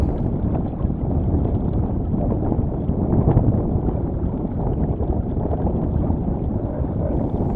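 Gusty lake wind buffets the microphone aboard a Potter 15 sailboat under full mainsail, a loud, continuous low roar with slight surges and faint water and rigging noise beneath.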